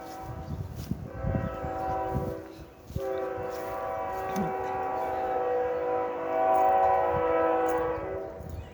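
Train horn sounding for a nearby street crossing, long sustained tonal blasts from a moderate distance in an outdoor yard, rising and swelling over several seconds with faint background noise.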